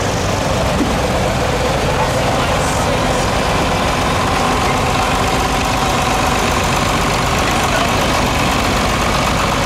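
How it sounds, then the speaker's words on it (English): A 1966 John Deere Model 110 garden tractor engine runs steadily at idle at a steam power show, a constant loud chugging hum with a faint crowd murmur underneath. "Here's our first garden tractor. This is a John Deere Model 110, built 1966"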